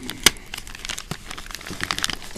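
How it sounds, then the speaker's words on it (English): Gift wrapping paper being peeled and unwrapped by hand, with a run of close crinkles and soft rustling punctuated by a sharper tear near the start, without speech. "Try not to rip this paper so I can use that again."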